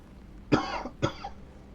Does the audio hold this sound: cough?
yes